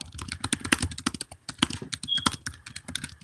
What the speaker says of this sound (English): That man type fast as hell.